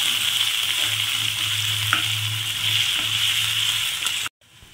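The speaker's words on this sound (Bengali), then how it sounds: "এর মধ্যে রসুন আর আদাটা আমি দিয়ে দিলাম, দিয়ে ভেজে নিচ্ছি।" Onion, garlic and ginger fry in a hot pan, a continuous close sizzle with faint stirring scrapes, steady throughout until it stops suddenly near the end.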